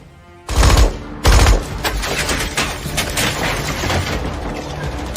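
Battle gunfire at a Sobibor death camp escape: two heavy close booms open a dense, continuous rattle of rapid automatic shots and scattered bursts that keeps going loud to the end.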